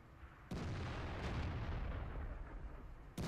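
A World of Tanks armoured vehicle fires heavy shells, two or three loud booming blasts with a long rumbling tail between them, set against constant low battlefield rumble.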